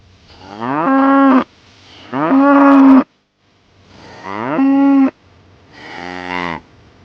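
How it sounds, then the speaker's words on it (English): A cow gives four loud, drawn-out moos, each rising and then holding a strong tone, separated by short silent gaps. "Cow."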